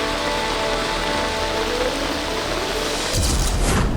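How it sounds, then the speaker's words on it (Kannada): Heavy monsoon rain pours steadily in coastal Karnataka, a dense loud hiss of drops on surfaces that swells noticeably louder toward the end, with no voices. "ಕರ್ನಾಟಕದಲ್ಲಿ ಮುಂಗಾರು ಮಳೆ ಚುರುಕು."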